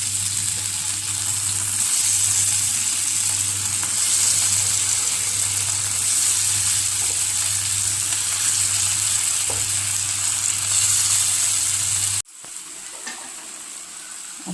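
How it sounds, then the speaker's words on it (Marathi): Chicken pieces shallow frying in oil, a steady loud sizzle that runs unbroken for about twelve seconds before dropping suddenly to a quieter sizzle. "आता हा एक एक पीस ह्याच्यामध्ये शॅलो फ्राय करून घेऊया"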